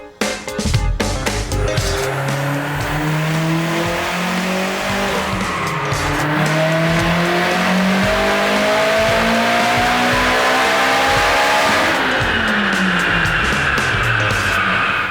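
A tuned Mitsubishi Evo X engine runs a loud pull on a dyno on 93 octane pump gas, revs climbing steadily in a rising harmonic whine for about twelve seconds before dropping off, then winding back up near the end.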